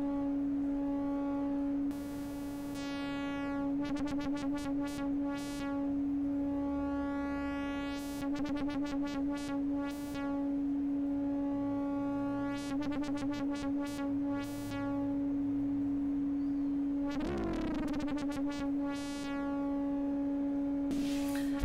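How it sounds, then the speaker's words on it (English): A steady pure sine tone hums throughout, interrupted by bursts of buzzing, stuttering synth chirps and clicks. "So we get a perfect sine wave."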